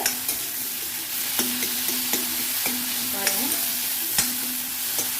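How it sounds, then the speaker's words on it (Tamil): Snake gourd seeds sautéing with onion in a pan for chutney: a soft, steady sizzle with faint stirring scrapes and light spoon taps, heard up close with no talking. "இந்த ஆனியன் வதங்கிலேயே நான் எடுத்து வச்சிருக்க பொடலங்காயை போட்டுறேன்."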